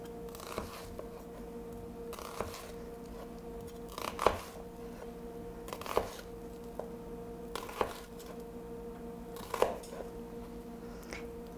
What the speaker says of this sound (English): you're going to make little tiny slices through your onion